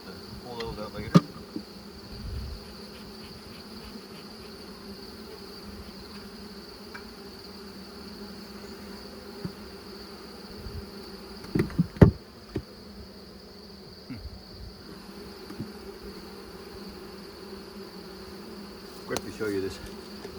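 Honeybees fanning at an opened hive make a steady, even buzzing hum that runs throughout, with a few faint knocks and clicks from the comb and frames.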